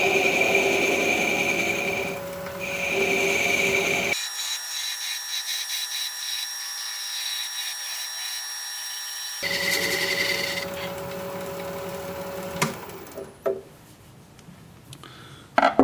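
A wood lathe spins a wooden Christmas mushroom ornament, giving a steady motor whine with rubbing and scraping that shifts in tone midway, ending with a few sharp knocks.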